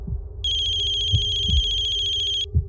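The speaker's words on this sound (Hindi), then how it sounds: "मम्मी का फोन" A phone rings with an electronic ringtone, a steady pulsing high tone lasting about two seconds. A low hum and soft knocks continue underneath, with no speech.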